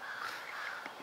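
A crow caws in the trees by Lake Taneycomo, a harsh drawn-out call followed by a couple of shorter ones, moderately distant over quiet outdoor air.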